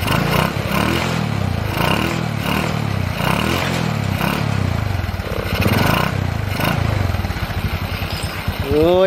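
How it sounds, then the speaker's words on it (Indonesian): A Honda Supra 125 motorcycle engine cranks on the starter and fires up, then runs loud and close with a rough, pulsing rhythm. The engine had been dying despite good compression and spark. "Oh ya kan, starter langsung genjreng, langsung hidup."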